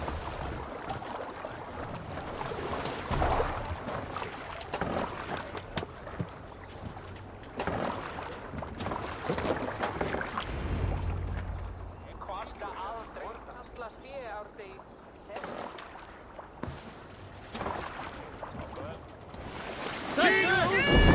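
A boat on open water in Assassin's Creed Valhalla, with splashing and rushing water, gusts and creaking movement under bursts of voices and game sound.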